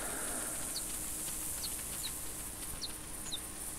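A pheasant clucks in theHunter 2016 game. Several soft, short calls come at irregular intervals, faint and distant over a steady hiss of outdoor ambience.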